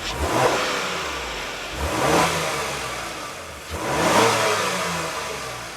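Engine of a 2026 Honda Passport TrailSport, a 285-horsepower V6 SUV, revving in three rising and falling bursts with the exhaust swelling and easing back between them, close and loud with no talk.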